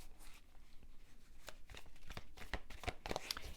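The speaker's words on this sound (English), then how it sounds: "I am a slow shuffler" A deck of cards being shuffled by hand: soft riffling bursts and flicks, slow and uneven, growing busier toward the end, quiet and close with no talking.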